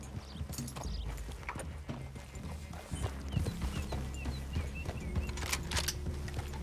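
Horse hooves clip-clop in Red Dead Redemption 2, close and fairly quiet, in irregular overlapping steps as several horses move together over ground, with faint game ambience around them.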